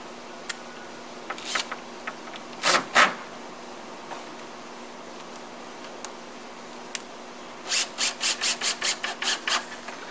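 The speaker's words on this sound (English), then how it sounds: "The next step is to install the cover boards. I like to get the screws started a little bit, get it all lined up straight." Screws are driven into fence cover boards with a few scattered taps and rubs, then a rapid run of short, evenly spaced ratcheting bursts near the end, fairly close.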